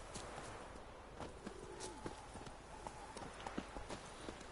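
Horse hooves in The Witcher 3 clip-clop at a steady walking pace, faint and a little distant, with occasional bird calls in the background.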